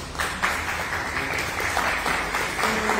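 Attendees at a June 2022 council session applaud a council member and her team, a continuous, even patter of many hands clapping for a few seconds, fairly close and sustained.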